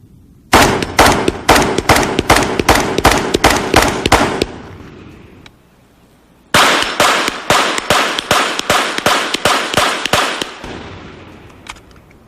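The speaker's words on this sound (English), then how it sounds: "You can get rid of a whole lot of bullets real quick this way." Rapid shots from an AR-15 rifle fired prone off a bipod, two long strings of about ten loud, evenly spaced cracks each, separated by a pause, close and with no talk.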